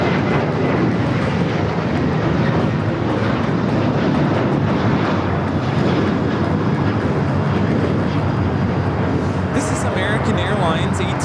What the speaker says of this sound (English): American Airlines 1899 taking off to Indianapolis on the 737-800.